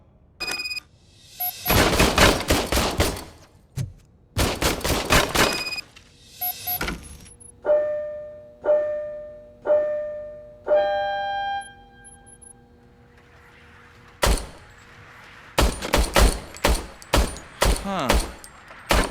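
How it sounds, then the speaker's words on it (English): Service pistol fired in the video game Robocop Rogue City: loud sharp shots in short bursts, with mechanical clicks and ringing electronic tones between volleys, and repeated rapid shots toward the end. "I was issued this old gun and serviced it according to the manual. I will try it out."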